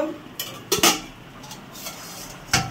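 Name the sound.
lid being placed on cooking pot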